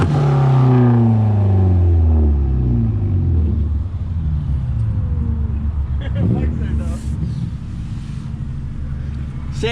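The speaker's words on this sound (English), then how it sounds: "Oh shit, a Subaru!" Subaru car engine revving hard and accelerating in snow during an informal drag race, a deep rising roar that peaks early and then settles into a steady rumble, with people talking and wind buffeting the microphone.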